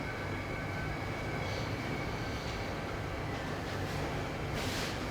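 A train rumbles past nearby as a steady, loud, broadband roar that holds throughout, with faint rattling and hissing layered on top.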